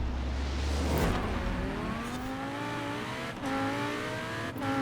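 A Ferrari with a Lamborghini engine swap, in a video game, accelerates hard down a drag strip, its engine note climbing steadily through the gears with brief breaks at each shift, loud and continuous.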